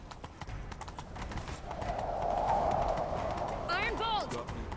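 Hooves of a horse galloping in The Witcher 3: Wild Hunt during a chase, a rapid clip-clop rhythm building under ambient game sound, with a brief whinny-like call near the end.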